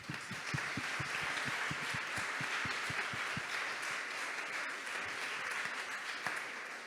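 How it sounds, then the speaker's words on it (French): An audience at an energy-savings award ceremony applauds steadily, a dense wash of many hands clapping together with a few sharp louder claps standing out early on, holding at an even level before easing slightly toward the end. "je vous invite à vous applaudir encore une fois"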